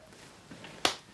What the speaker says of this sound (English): I think I have to clap before.